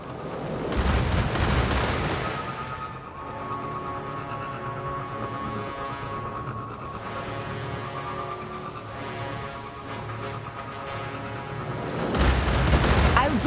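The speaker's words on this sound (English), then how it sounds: "A Goliath tank. Watch out for its cannon." Cannon fire from a Cabal Goliath tank in the video game Destiny Rising booms heavily and loudly, with strong blasts at the start and end and a sustained rumbling, droning battle noise between.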